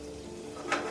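Butter sizzles gently in a pan, a soft steady crackle with a brief louder hiss near the end.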